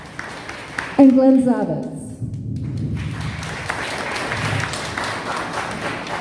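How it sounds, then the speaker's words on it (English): Audience applause at an all-candidates business forum in Muskoka Lakes, a broad steady wash of clapping filling the room after a brief burst, with a voice reading names over it. "I can talk over clapping."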